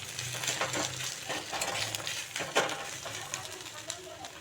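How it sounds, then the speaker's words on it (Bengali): A spoon scrapes and stirs boiled lai leaf paste with fried onions in a pan, in quick irregular strokes over a faint sizzle. "একটু নেড়ে চেড়েই নামিয়ে নেব।"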